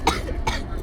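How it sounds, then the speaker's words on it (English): A woman gives two short dry coughs, close and sharp, with a brief pause between them. "With that dry cough."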